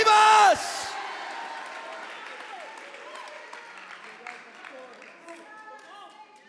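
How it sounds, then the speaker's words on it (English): Church congregation clapping and shouting during a Palm Sunday sermon; a brief loud burst opens the clip, then scattered applause and whoops fade under lingering voices. "Somebody clap. Somebody shout, Hosanna,"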